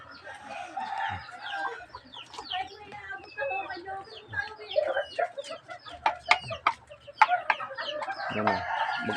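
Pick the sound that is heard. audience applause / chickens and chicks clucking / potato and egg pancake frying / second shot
chickens and chicks clucking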